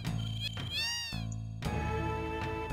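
Cat meows in Final Fantasy VII: a few short, gliding meow calls rising and falling over steady game background music, fairly clear and close.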